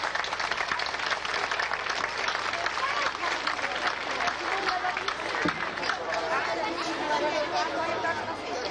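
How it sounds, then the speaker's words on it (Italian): An audience in Ciociaria, Italy applauding steadily from a short distance, with crowd chatter and murmuring voices mixed underneath. "grazie per i vostri applausi"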